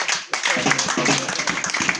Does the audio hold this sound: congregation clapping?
yes